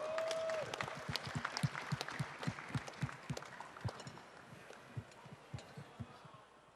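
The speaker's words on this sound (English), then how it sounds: "Let's give him a big round of applause." Applause at a boxing post-fight press conference, a dense wash of clapping from a crowd that gradually tapers off, with thumping low knocks running through it.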